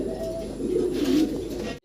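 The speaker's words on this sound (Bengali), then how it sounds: "এটা কাগজি কবুতর" A white Kagji pigeon coos in a low, throaty, drawn-out murmur, close and fairly loud, which cuts off abruptly at the end.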